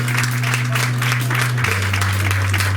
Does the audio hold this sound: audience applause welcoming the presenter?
yes